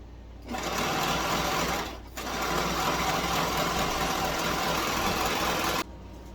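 A sewing machine runs in two long, steady bursts of stitching along a tee shirt neckband seam, loud and close, with a brief pause between runs.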